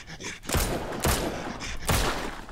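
Gunfire in the survival game Mist Survival: three loud, sharp shots, each with a short booming tail, fired at uneven intervals of roughly half a second to a second, with no talking.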